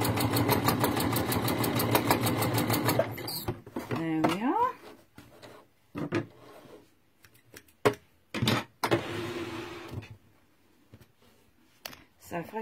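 A sewing machine runs a straight stitch on a textile art seascape, a fast steady mechanical whirring for about three seconds, followed by clicks and handling noises while someone talks.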